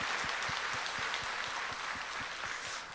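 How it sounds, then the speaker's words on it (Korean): A church congregation applauds during a Sunday service, a steady, distant wash of many hands clapping that holds evenly throughout and thins slightly at the end. "우리 박수로 한번 축복하겠습니다."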